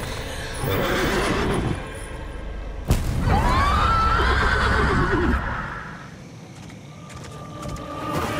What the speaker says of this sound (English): Oh my god, he's riding a horse.